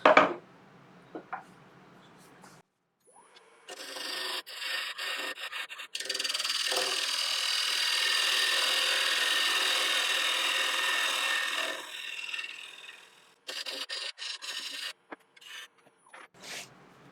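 A wood lathe turns a tenon on a piece of African mahogany, the gouge scraping and rasping loudly in a long sustained cut, broken by short bursts and pauses before and after.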